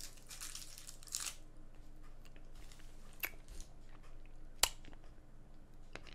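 Biting and chewing a hard green apple Jolly Rancher candy, with a few sharp crunches and quiet mastication spread over several seconds, close to the mic.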